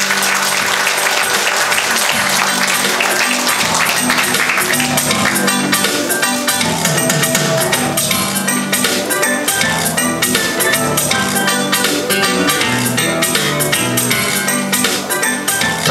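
Sustained audience applause at a Korean memorial association's ceremony appointing new chairmen, steady and full-bodied for the whole stretch, with music playing underneath.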